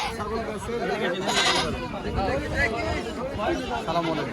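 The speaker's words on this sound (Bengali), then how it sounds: "এই পাশে আমার ছাগল আছে দেখেন মাশাআল্লাহ" Goats bleat repeatedly at a busy Bangladeshi livestock market where nanny goats and castrated males are sold, loud and close amid a constant babble of crowd chatter and people talking.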